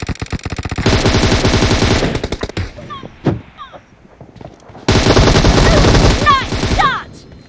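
Bursts of rapid automatic gunfire from a squad team deathmatch shooter game, two long close stretches of fast repeated shots separated by a quieter gap with scattered single shots and small electronic chirps.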